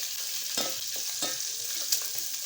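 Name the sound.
pork dry frying in a pan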